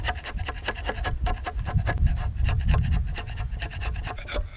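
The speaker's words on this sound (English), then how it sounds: "A good sharp chisel is sure a pleasure to use." A sharp chisel cutting a tenon into a round wooden floor joist, a rapid series of scraping, shaving strokes in a steady rhythm, close and fairly loud.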